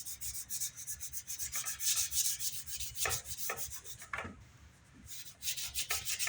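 Hand sanding the corners of a 1981 Gibson E2 CMT Explorer guitar body with a flamed maple top, a steady close rubbing rasp in quick repeated strokes that pause briefly near the end, with no talking.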